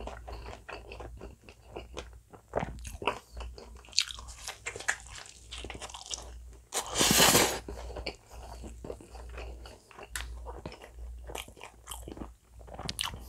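Close-up mukbang eating of pizza and spaghetti, with steady wet chewing and soft crunches throughout and one loud crunchy bite in the middle, no talking.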